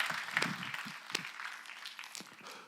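Scattered applause from a church congregation during a Sunday service, fairly quiet and uneven, with a few sharper claps standing out.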